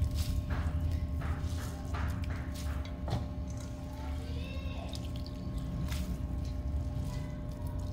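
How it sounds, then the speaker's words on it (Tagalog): Grated papaya squeezed by hand for atchara, giving soft wet squishes and drips of liquid that are close, quiet and irregular over low background hum. "Kailangan may energy kayo dito sa pagpiga ng papaya"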